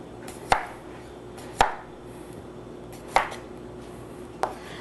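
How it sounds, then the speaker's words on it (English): Thin slices of cucumber are cut with a knife in a home kitchen, making four crisp, isolated chops on a board. They come about a second apart, close and clear against a quiet background. "Just cut your cucumbers thin."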